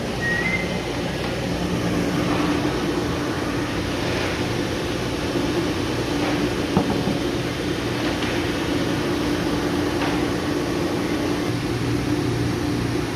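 A jumbo cable coiler machine winds cable onto a spool with a continuous mechanical hum and rumble, a steady motor drone with faint clicks and clanks scattered throughout, fairly loud and unbroken.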